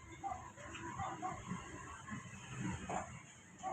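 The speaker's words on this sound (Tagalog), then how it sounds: "Kasi po tumatahol ang aso" A dog barks and yips in short, faint bursts against a steady background hiss, with a few small whimpering sounds between the barks. The barking seems to come from some distance.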